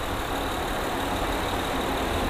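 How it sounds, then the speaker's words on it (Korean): A 3.5-litre engine of a fourth-generation Honda Odyssey runs at idle in the open engine bay, giving a steady, even hum with no break throughout. "엔진 소리 일정합니다"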